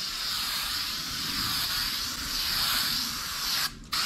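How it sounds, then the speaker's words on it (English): Spray adhesive hisses from an aerosol can in one steady, continuous burst lasting several seconds, close and fairly loud, cutting off abruptly near the end. "Just spray a little bit of glue."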